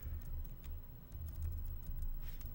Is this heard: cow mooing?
no